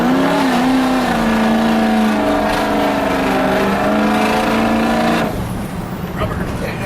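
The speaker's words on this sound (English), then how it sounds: "I guess we're gonna do a little burnout here." A car with a 6.0 diesel engine roars loudly and steadily during a burnout, tires spinning and engine held high, then drops off abruptly near the end.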